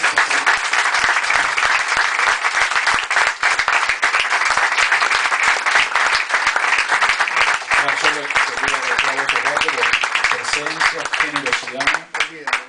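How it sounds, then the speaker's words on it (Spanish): A crowd at a book presentation applauds loudly and continuously at close range, a dense wash of clapping that holds steady for several seconds before tapering off, with voices talking under it toward the end. "ahora aplaudirlos a todos los que han hecho el libro"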